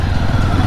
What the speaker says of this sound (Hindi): और एग्जॉस्ट नोट आप इसका सुन सकते हैं भाई